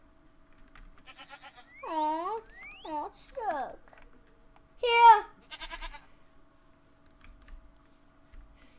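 Sheep bleats from a farming video game rise over a quiet background, several short wavering calls in a row, with someone speaking briefly in between.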